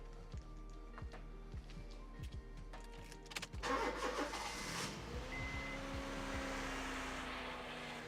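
A tired-sounding car that needs a service cranks over with rapid starter clicks for a few seconds, then catches and settles into a steady, moderately loud idle.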